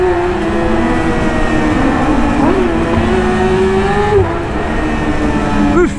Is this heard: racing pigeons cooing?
no